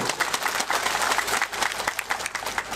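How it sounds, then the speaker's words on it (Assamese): A crowd applauding at a political mass gathering and joining programme in Salakati, Kokrajhar: dense, sustained clapping from many people, steady and fairly close throughout. "মই সকলোকে এবাৰ জোৰদাৰ হাত চাপৰি দিবলৈ অনুৰোধ কৰিছো"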